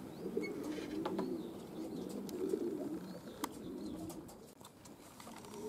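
Racing pigeons flying over a town, with soft wing flutters and occasional faint coos and chirps over a steady low outdoor rumble.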